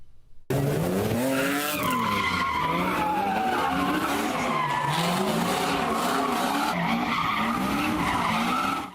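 Tires squeal loudly and continuously as a street-racing car skids and revs in metro Atlanta, the screech wavering for several seconds with engine roar underneath.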